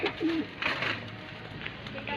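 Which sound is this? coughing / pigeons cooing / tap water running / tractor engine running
pigeons cooing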